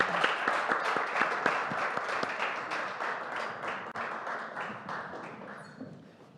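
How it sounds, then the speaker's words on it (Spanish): A small group applauds at the close of a Spanish vocational-training orientation session, a steady burst of clapping that holds for several seconds and gradually tapers off. "un aplauso para vosotros"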